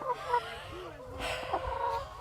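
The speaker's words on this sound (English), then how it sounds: "chickens are raised out in the open" Chickens on an open-range farm cluck and murmur close by, with short rising calls and chattering over outdoor ambience, while a voice talks faintly in the background.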